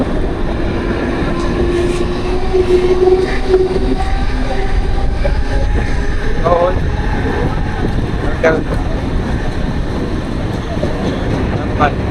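A Mumbai local train rumbles and rattles steadily while held at a red signal in heavy monsoon rain, with wheel and carriage clatter, a few brief squeals and voices in the background.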